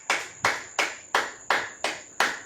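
A church congregation claps in unison as an offering of praise, seven sharp, evenly spaced claps about a third of a second apart, close and crisp with no voices over them.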